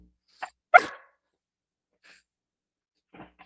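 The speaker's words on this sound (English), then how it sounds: "That's a weird bark." A pet dog gives a few short, sharp barks indoors, one loud yip standing out among fainter ones, separated by silence, close by and with no talk over them.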